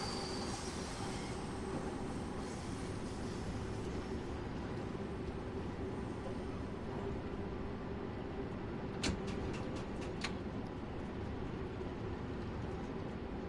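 London Underground Bakerloo Line train in Train Sim World 2 rolls steadily with a continuous rumbling drone, and a few sharp clicks and squeals from the track near the end.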